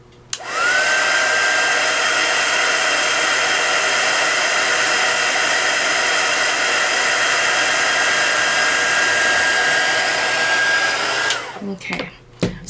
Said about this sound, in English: I'm going to hit this with the heat tool and see if I can help that.